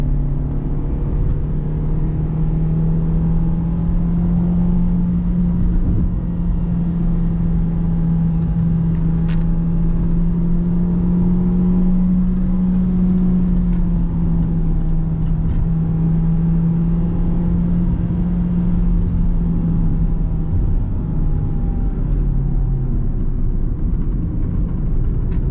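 A 2020 Peugeot 2008 1.6 automatic climbs a mountain road under acceleration, its engine giving a steady, loud drone that rises and falls slightly in pitch over a constant road and wind rush, with no talk.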